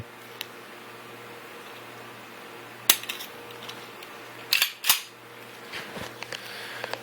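A Rock Island Armory .38 Super 1911 pistol being safety checked, with a few sharp metallic clicks and clacks of the slide and action, quiet and close against a faint background hum.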